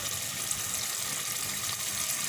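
Water pours into a pot of chicken korma, a soft steady rush of liquid throughout the short stretch, fairly quiet and with no talk.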